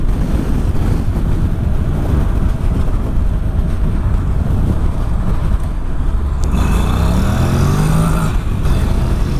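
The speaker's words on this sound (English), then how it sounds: "You ride this bike like this: 6th gear, 60 kph." Honda NC750X motorcycle cruising in sixth gear at about 60 km/h, a steady low engine drone under continuous wind rush, with a brief shift in tone near the end.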